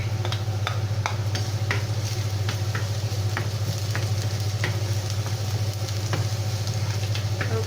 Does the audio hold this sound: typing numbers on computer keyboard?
no